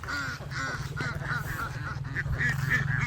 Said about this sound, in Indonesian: Bebeknya pada kabur, teman-teman.